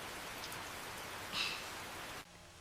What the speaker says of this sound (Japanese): 並んで雨を眺めました